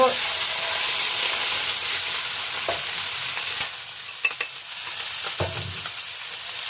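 Fish searing in a hot frying pan, a loud, even sizzle that drops partway through, followed by a few clinks and scrapes of the pieces being lifted out, close and without talk.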